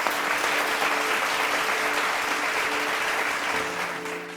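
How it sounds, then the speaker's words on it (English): Steady audience applause in a cooking competition studio after a round for the judges, a dense wash of clapping that holds evenly and tapers slightly near the end. "Round of applause for our judges."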